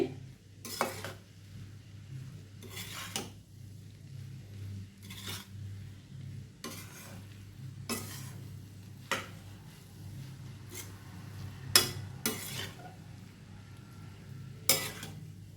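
Onion rice being stirred and mixed in a pan, with repeated scraping and clinking of a utensil against the metal at irregular intervals over a faint steady sizzle, close up and with no talking.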